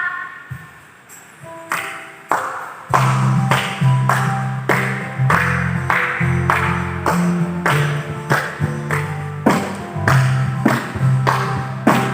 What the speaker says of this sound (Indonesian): Adik-adik, kita tepuk tangannya